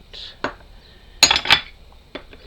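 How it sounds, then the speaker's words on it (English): Small glass dishes clinking and knocking against each other while a Rolife miniature book shop kit is assembled; a few sharp, close chinks, with a cluster of bright clinks in the middle and quieter taps around them. "you glass dishes, not the quietest of things, are they?"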